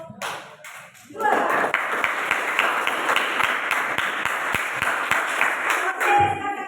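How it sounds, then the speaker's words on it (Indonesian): A classroom group claps for group two, a dense, steady patter of many hands that starts after a brief pause and keeps going for several seconds, with a voice heard briefly near the end. "kita berikan aplaus dulu untuk kelompok dua"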